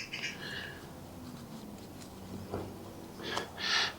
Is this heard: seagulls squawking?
yes